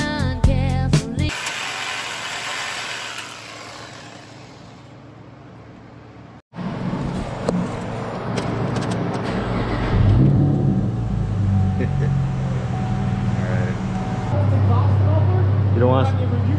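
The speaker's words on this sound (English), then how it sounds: "Let's go make this car loud." A V6 Camaro with its muffler deleted idles and revs, the raw exhaust rising into loud, rough pulls after a brief pause, with voices talking over the engine throughout.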